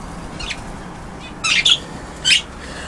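Pet canaries and a lovebird chirp at a fruit platter indoors, a few short, fairly faint bright chirps scattered over a soft background hush.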